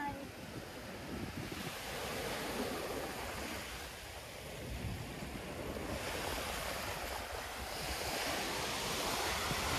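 Sea waves washing onto Gwanga beach, a continuous faint surf wash with swelling and receding surges, mixed with wind buffeting the microphone and no speech.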